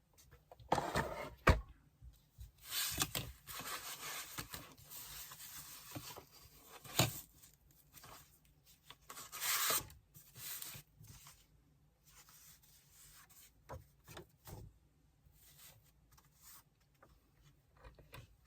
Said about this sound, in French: on va prendre tout ça et on va faire donc nos plis